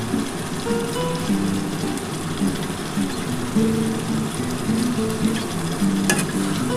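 Catla fish head and potato curry bubbling in a pan after fresh coriander leaves are stirred in; a steady, close simmering hiss continues throughout without pause.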